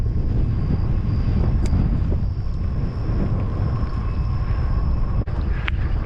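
Gusty wind buffets the microphone on a gravel cycling route in the Wichita Falls region, a loud, steady low roar that runs the whole time with no talking.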